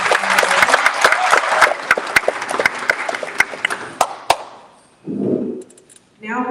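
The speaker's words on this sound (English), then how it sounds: "I would like you guys to give a round of applause for" Dense audience applause at a financial summit, loud and continuous for about five seconds with sharp individual claps, then fading as a voice begins speaking.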